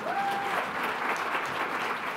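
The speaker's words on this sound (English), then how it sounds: "Please make him welcome with a round of applause." An audience at a conference on smoking care innovations, held in a hotel, gives a round of applause: steady, sustained clapping from many hands lasting about two seconds.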